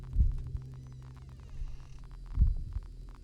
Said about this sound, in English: Heartbeats. Don't you love it?